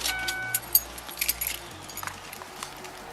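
Car keys jangle and clink in short bright bursts as they are passed over during a police traffic stop, with a low idle rumble underneath and a brief quiet gap partway through.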